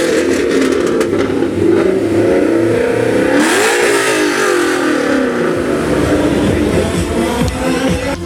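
A Terminator Cobra with a Rush exhaust, long headers and no resonators revs hard and loud up close, the engine note climbing and falling in one sustained, rumbling rev.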